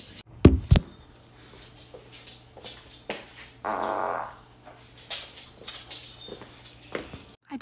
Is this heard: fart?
yes